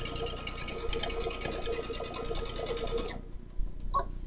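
A domestic sewing machine stitches quilt fabric in a fast, even, close run for about three seconds, then stops, followed by a single small click.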